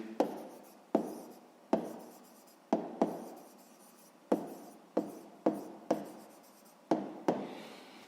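Pen writing math figures on paper in a 6th-grade lesson: a close series of about a dozen quick, scratchy strokes, each starting with a soft tap, spaced unevenly with brief pauses and no talk.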